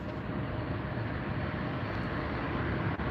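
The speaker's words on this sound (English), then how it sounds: "And you see the Finnair departing right now." A Finnair airliner departing Los Angeles Airport makes a broad, steady jet roar that holds at a fairly even level for a few seconds, distant rather than close.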